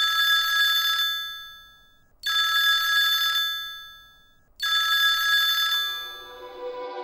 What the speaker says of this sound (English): She picked up the phone, dialed the Leery home